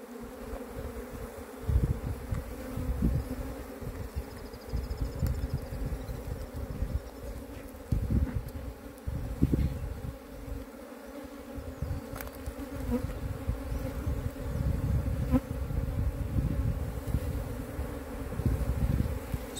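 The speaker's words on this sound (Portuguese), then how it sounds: "eu tô impressionado a quantidade de abelha que tem dentro desse enxame ainda" A swarm of Apis honey bees buzzing steadily inside a hive box during a colony capture, a dense continuous hum close by with occasional louder passes and knocks.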